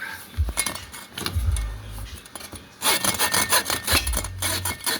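A Yoshimura exhaust pipe from a 2009 Honda CBR600RR is cut down to fit, giving rough, rhythmic rasping saw strokes in bursts with short pauses, loud and close.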